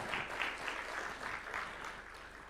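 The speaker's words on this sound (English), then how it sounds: "Another round of applause for His Excellency" A public audience applauds His Excellency at a national vision address, giving a steady, even wash of clapping that holds throughout and eases slightly near the end.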